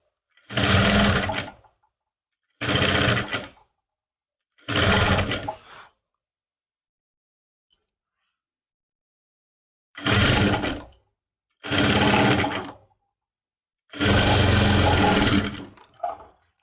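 A sewing machine stitches a loose neck strip around a suit lining in six or seven separate loud bursts, with short silent pauses between runs.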